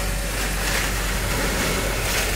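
Heavy rain pounding during a night storm, heard from inside a shaking vehicle stopped on a bridge, a dense, constant roar of water and wind with no breaks.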